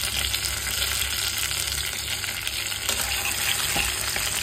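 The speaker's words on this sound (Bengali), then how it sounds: "পেঁয়াজটা একটু ভাজা ভাজা হবে" Onion and bay leaf fry in hot oil for a chickpea curry, a loud, dense, continuous sizzle heard close up with no voices.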